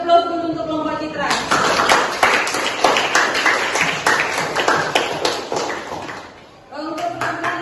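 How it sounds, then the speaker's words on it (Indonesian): Clapping from a student group's audience at a school presentation, a dense burst of many hands lasting several seconds, loud and close, then fading as a voice resumes. "kita beri aplaus dulu untuk kelompok Citra."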